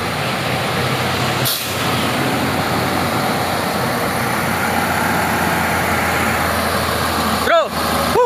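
Trailer truck carrying 45 tons grinding up a steep hill with its air filter opened, a steady loud engine drone throughout, with a brief air hiss near the start and air-brake bursts near the end.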